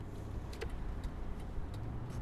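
A car drives and turns into a parking space, giving off a steady, close rumble of engine and road noise for the whole stretch, with faint clicks on top and no voices.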